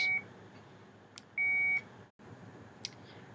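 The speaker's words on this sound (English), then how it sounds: "I have to answer my phone whenever it rings" A phone at a workplace rings with short electronic beeps, two distinct tones separated by a pause, fairly close, followed by faint clicks and quiet background noise.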